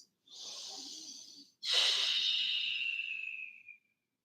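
Two long, close breaths: a soft hissing inhale of about a second and a half, then after a short pause a stronger, airy exhale through the mouth that trails off gradually over two seconds.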